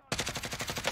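Rapid automatic gunfire in the video game Warzone, a burst of about ten evenly spaced shots starting abruptly, fairly close and sharp, with no talk.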